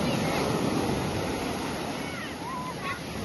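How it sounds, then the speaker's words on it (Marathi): Sea waves at high tide on Arnala beach roll and wash continuously up close, with a steady rumbling surf and some wind buffeting the microphone. "बघू शकता एकदम लाटा मारतायत"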